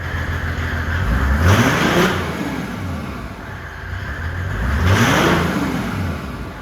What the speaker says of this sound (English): something cool about diesels that you might not know is this was just running for what, the better part of 2 minutes